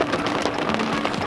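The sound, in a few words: hail falling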